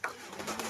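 A racing pigeon gives a short, soft coo at close range, faint against a hissy outdoor background, with no talking.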